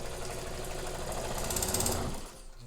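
Necchi Supernova Ultra sewing machine running at higher speed, a fast, steady mechanical whir and rapid needle chatter, close and continuous before easing off at the end.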